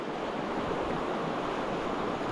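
Turbulent river pocket water rushes and churns in a steady, dense wash of noise, close and unbroken, with no voices or other sounds over it.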